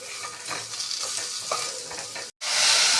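Chopped turnip sizzles and crackles steadily in a hot pan with green chili, curry leaves and asafoetida, with soft stirring scrapes, close up, ending in a brief cut and a louder burst of frying.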